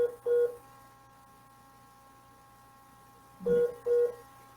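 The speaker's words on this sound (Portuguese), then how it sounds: "Vou ligar novamente para o André." A telephone call is placed, and two pairs of short electronic beeps sound several seconds apart over a faint steady hum.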